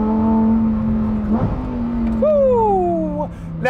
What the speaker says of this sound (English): driving the Huracan